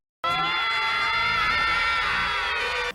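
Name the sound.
skeletons screaming in G.I. Joe cartoon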